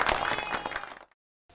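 Audience applause at a function during a Chhattisgarhi short film awards ceremony, a dense burst of clapping that fills about a second, then cuts off abruptly into silence.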